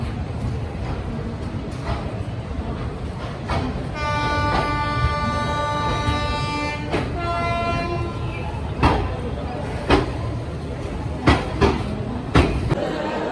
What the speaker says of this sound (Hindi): हमारी ट्रेन पहुंच गई गुरुमुखी सुपरफास्ट एक्सप्रेस उत्तर प्रदेश की राजधानी लखनऊ में